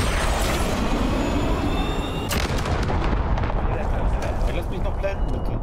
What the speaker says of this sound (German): Noch ein Marschflugkörper, cool.